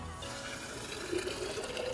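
Boiling water is poured into an Asobu insulated bottle with a dog bowl. A steady, fairly close stream of liquid rushes and gurgles as the bottle fills, with no talking.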